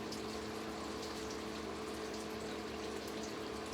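Water running steadily over a dog during a bath rinse, a continuous close pump-driven gush and splash with no pauses.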